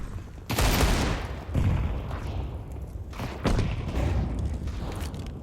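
Desert Eagle pistol shots in a Counter-Strike match, several loud booming reports spaced a second or so apart, each with a sharp crack and a trailing echo, with no talk heard.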